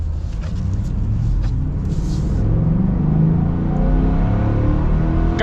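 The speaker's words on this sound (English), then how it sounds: "Yeah, it's definitely a hot rod engine, that's for sure." A 2026 Ford F-350 single cab with the 7.3L Godzilla V8 rumbles steadily close by, a continuous low engine drone with slight swells as it runs, heard alone with no talk.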